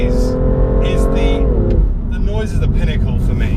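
A 2017 BMW M2 accelerates hard with a loud rising engine note that drops at a gear change and then climbs again, heard close up.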